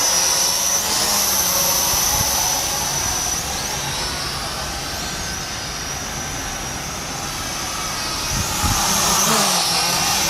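A steady, loud high-pitched whir of an SG900 drone's small propellers spinning fast at speed setting 3, a constant buzzing drone that holds throughout with slight swells.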